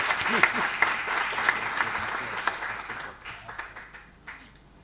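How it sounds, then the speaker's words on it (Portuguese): An audience at an academic anniversary closing ceremony applauds Renato Lessa, lively clapping that starts strong and gradually thins and fades toward the end. "As palmas são para o Renato Lessa."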